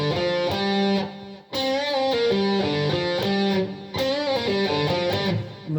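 A distorted electric guitar plays a riff in G three times over, with quick bends and pull-offs, loud and continuous, each pass separated by a brief dip, and no talking.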